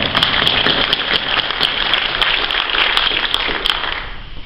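Round of applause from an audience at a village State of the Village address, a dense, even patter of many hands clapping at steady volume throughout.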